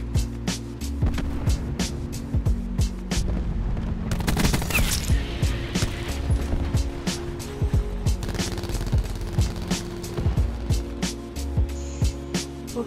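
Sustained automatic gunfire from a gunship killstreak in Call of Duty Black Ops 4 team deathmatch, with rapid overlapping bursts and a loud heavy barrage in the middle, continuing alone throughout.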